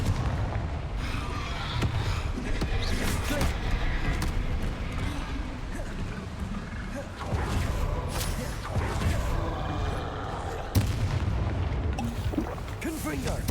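Explosions from the Confringo and Bombarda spells burst through Hogwarts Legacy combat. Loud booms and whooshes pile up continuously under a dense, rumbling game soundscape.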